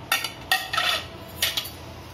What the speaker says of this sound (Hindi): इन सब चीज़ों को डाल के मिक्स करूँगी